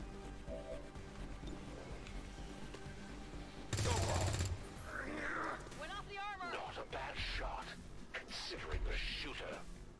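Gunfire in the video game XCOM 2 during a mission against a hunter stronghold, a loud burst of rapid shots followed by crashing impacts and electronic effects, with someone talking over the action.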